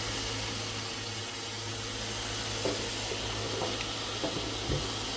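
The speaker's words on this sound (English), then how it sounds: "Bacon is sizzling away." Constant crackling sizzle of bacon in a hot pan, dense and steady, with a low hum underneath and a few faint knocks.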